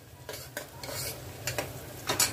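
Oil sizzles softly in a pan as garlic fries for tempering while a spoon scrapes and stirs in short bursts, with a few metallic clinks of utensil against the pot.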